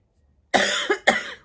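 Two harsh, close coughs from a person with a lingering cough break a short silence, the first longer and chesty, the second following quickly after a brief pause, with no talking.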